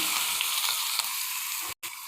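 Ground onion paste with cumin seeds spits and hisses in hot oil in a pot, a steady close sizzle with a brief silent gap near the end.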